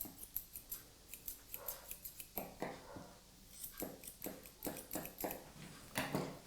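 Scissors snip rapidly and rhythmically through a Lhasa Apso's hair around the foot, close up, in quick bursts of crisp metallic cuts with brief pauses.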